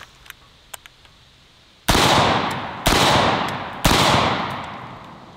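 An AR-15 rifle fires three loud, sharp shots about a second apart, each followed by a long decaying echo, after a few faint clicks.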